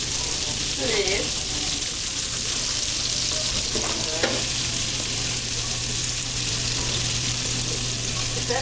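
Spiced shrimp coated in a Texas-style seasoning frying in a pan, a loud continuous close sizzle with scraping stirs, a steady hum beneath and brief voices over the cooking.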